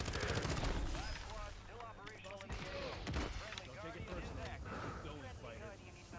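Call of Duty gameplay gunfire rattles in fast bursts through a dense game mix, partly buried under constant conversation between players.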